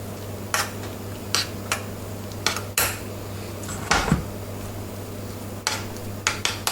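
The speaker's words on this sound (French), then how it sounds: "on rajoute de la purée à hauteur" A spoon scrapes and clinks against a dish as mashed potato is layered over black pudding for a parmentier with apples, giving sharp, scattered taps close by with no talk.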